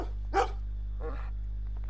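A dog in Red Dead Redemption 2 gives two barks close by, the first sharp and loud and the second softer, over a steady low hum.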